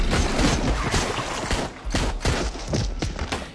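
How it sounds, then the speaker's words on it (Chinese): A dense burst of gunfire from a pistol-like firearm, rapid cracking shots packed close together over a few seconds, loud and sharp with a short dip before more shots. "手中的枪也响了起来。"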